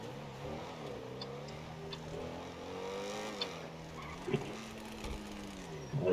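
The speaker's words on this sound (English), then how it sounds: "Love the sound of the exhaust." A Mercedes GT63S engine in Grand Theft Auto V hums and revs in waves, pitch climbing and dropping as it accelerates, with steady road noise and a rumbling exhaust note.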